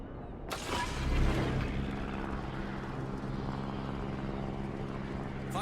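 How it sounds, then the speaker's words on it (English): Fighter aircraft launching in the World of Warships naval game, a steady propeller engine drone with a rising whoosh at the start, fairly loud and continuous, with no voices. "Fighter airborne."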